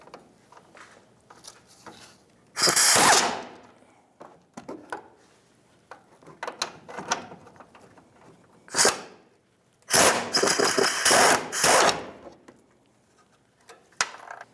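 Ratchet and socket working on radius arm bracket bolts of a 1992-1996 Ford F-150, giving bursts of loud metallic clicking and rattling separated by quieter handling noises, close up with no talk.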